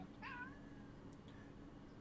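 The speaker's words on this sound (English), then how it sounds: "the cat meowing very loudly into the mic" A cat lets out a single short, faint meow close to the microphone, followed by quiet room hum.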